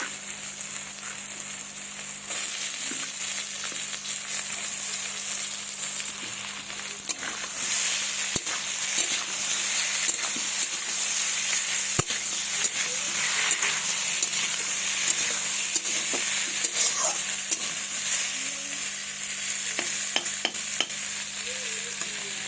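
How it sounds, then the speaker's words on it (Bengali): Onion and boiled papaya frying in a pan while being stirred, a continuous close sizzle and hiss under repeated scraping and clinking of a spoon against the pan for over twenty seconds, with no talking. "আমি এটাকে ভেজে নিলাম দিয়ে এবার আমি সেদ্ধ করে রাখা পেঁপেগুলো এর মধ্যে দিয়ে দেবো"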